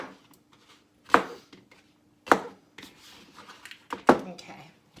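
A knife chops okra into pieces on a cutting board, making three or four sharp, separate cuts spaced about a second apart, close and clear.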